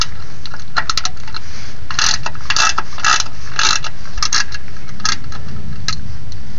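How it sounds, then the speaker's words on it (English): Wrench ratcheting and clicking against the front differential fill plug on a Ford Super Duty, a quick run of close, sharp metallic clicks in irregular bursts, no talking. "the first thing I do is the fill plug. I break that loose"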